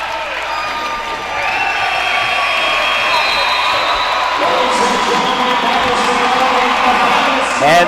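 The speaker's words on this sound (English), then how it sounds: "Let the crowd take this one home." A basketball crowd at a college game roars steadily as the final seconds run out, with a loud, continuous wash of cheering and whooping that swells slightly toward the end under an announcer's voice.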